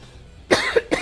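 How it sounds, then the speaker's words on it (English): A person in a chill game stream coughs twice, sharply and close, after a quiet moment. "Man, I keep coughing."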